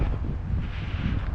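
Gusting wind buffets the microphone on a cold, windy winter walk, a low steady rumble filling the short moment with no talking.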